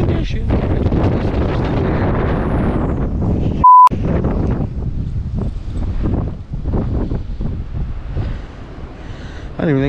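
Loud wind buffets the microphone continuously, a rough, gusting roar that stays strong throughout, broken once by a brief electronic beep.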